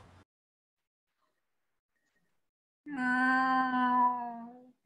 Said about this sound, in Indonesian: Kucing liar